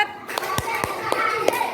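Children in a classroom clap hands together in a counted sequence, sharp separate claps spaced roughly every quarter second, close by with faint voices around them.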